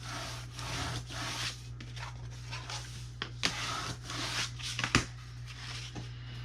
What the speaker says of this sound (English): I'll use my spatula just to get a nice stick on this